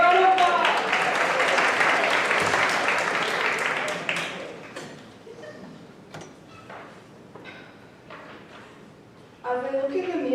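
A school audience applauds during a Grade 9/10 spoken word poetry final, a dense, loud burst of clapping that dies down after about four seconds into scattered claps and room noise, with a voice starting to speak at the end.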